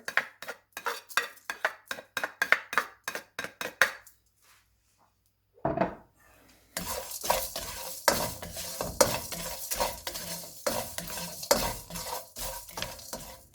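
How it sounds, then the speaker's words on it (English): Whole spices dry roasting in a pan, a spatula stirring and scraping in a quick, steady rhythm, then a short pause before a denser, continuous rustling and scraping resumes up close. "I'm going to start with dry roasting the spices"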